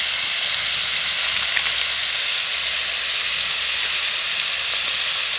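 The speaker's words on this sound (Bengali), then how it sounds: "ভালো করে সুন্দর করে নেড়ে চেড়ে কষিয়ে নেব।" Potatoes tossed with coriander and cumin powder are stir-fried in a pan, giving a steady soft sizzle with faint scraping of the stirring throughout, and no talk.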